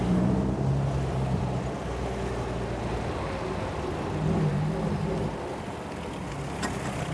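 A 1954 MG TF sports car engine drones steadily as it pulls through the gears, a low rumbling tone with slight rises in pitch, heard from inside the car without talk.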